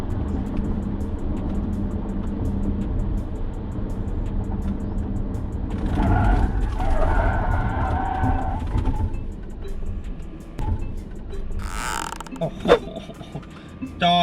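A BYD Atto 3 swerves through a moose test at 80 km/h, its road and tyre noise swelling and creaking through the manoeuvre, with someone talking over parts of it.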